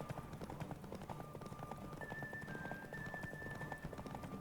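Hooves pound in a fast, even gallop as a horse races in The Witcher 3, the drumming continuous and near, with thin sustained tones hovering above it.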